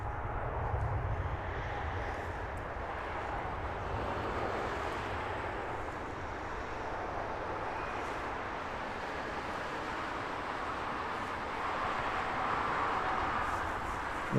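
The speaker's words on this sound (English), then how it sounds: "Have a look at that beautiful Air India A350." Air India Airbus A350 at Heathrow Airport, with a steady broad jet roar that stays even from start to end, heard from a distance with light wind on the microphone.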